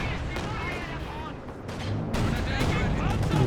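IS-2 tank firing and landing a hit in a Company of Heroes 2 match, dense booming cannon and gunfire explosions swelling over a constant roar of battle, with a commentator's voice talking over it.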